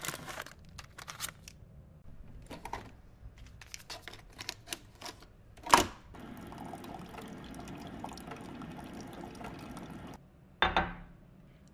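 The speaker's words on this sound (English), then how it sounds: "let's make some coffee" Morning coffee being made at home: clinks and handling noises, then a steady pour of liquid into a cup for several seconds, a short sharp scrape in the middle and a brief burst near the end, fairly close with no talk.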